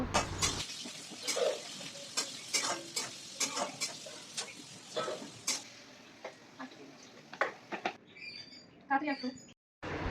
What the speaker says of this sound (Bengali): এরপর কড়াইতে দিয়ে দিলাম গোটা রসুন, পেঁয়াজ, লঙ্কা কুচি